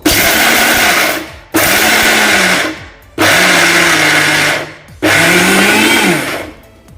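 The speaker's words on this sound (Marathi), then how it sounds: "आता आपण हे मिक्सर ऑन ऑफ करत हे वाटून घेऊयात" A mixer grinder whirs loudly in four separate bursts of about a second and a half each, grinding peanuts and chillies coarsely, with brief pauses where the motor winds down.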